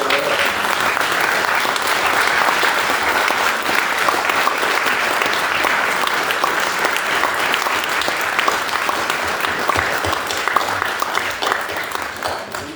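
Steady, full audience applause fills a nature club meeting hall, loud and continuous for a long stretch with no break.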